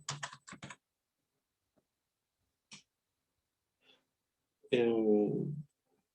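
Typing on a computer keyboard gives a quick cluster of close keystrokes, then a few isolated clicks in near silence, followed by a short vocal sound.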